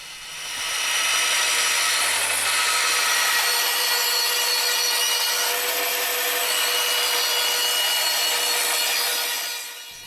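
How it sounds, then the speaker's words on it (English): An oak tabletop is cut freehand into a circle with a jigsaw or bandsaw, giving a steady, loud, rasping saw noise that holds for about eight seconds, then stops, with no talking. "why not employ a jigsaw or a bandsaw as I'm doing here"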